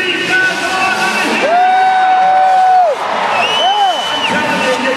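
Spectators at a mini motocross race cheer, whoop and yell in a loud, continuous crowd roar, with a voice talking over it.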